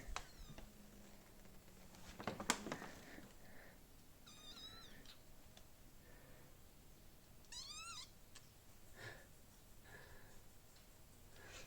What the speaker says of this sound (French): on a adopté un petit chat, je vais vous montrer